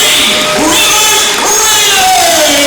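Basketball crowd in a school gym cheers and shouts in a loud sustained roar, with whistles or squeaks and a voice rising through the din.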